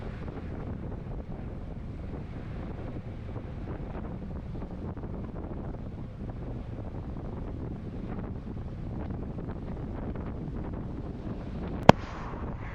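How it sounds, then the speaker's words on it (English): Steady, gusty wind buffets the microphone on a road during a bike race, a dense continuous roar that stays close and loud throughout, with one sharp click near the end. "It was quite gusty."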